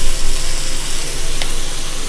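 Tomatoes with garlic, tamarind and salt sauté in a pan for onion chutney, giving off a loud, steady hiss that runs unbroken from start to finish.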